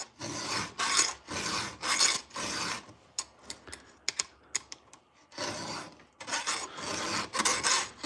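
A chainsaw chain gets a quick hand-file touch-up in a garage: steady, close rasping strokes in a regular back-and-forth rhythm, pausing for a few seconds of light clicks before the filing resumes.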